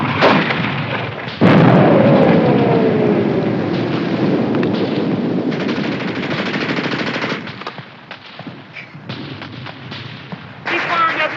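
Machine-gun bursts and heavy mortar and artillery blasts fill a 1951 World War II battle scene, loud and sustained with a big boom near the start, while soldiers shout over the gunfire.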